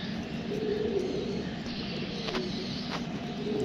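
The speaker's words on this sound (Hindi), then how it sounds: "ये छत का ही कबूतर है किसी का।" Pigeons on a rooftop coo softly amid steady outdoor background noise, with a faint chirp or two and no voices.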